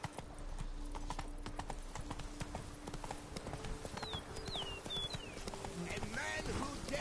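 Hooves of the horse Roach clip-clop at a gallop in a video game, a steady rapid beat under ambient game sound, with a brief whinny and faint voices near the end.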